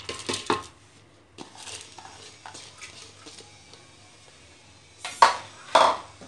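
A few sharp clinks and knocks of kitchen utensils against a metal pressure cooker as lentils are put in, with two louder clattering hits near the end, no talking.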